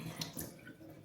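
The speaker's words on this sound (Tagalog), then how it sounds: "Hugasan muna natin ang ating pakwan bago natin" Watermelon rinsed under a running kitchen tap, with a steady soft wash of flowing water and light splashing, close and faint, no talk.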